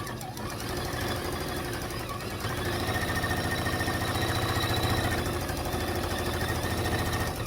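Sewing machine stitching down quilt binding for a vintage table runner, a steady rapid mechanical chatter of the needle running continuously close by, swelling slightly midway, with no voices.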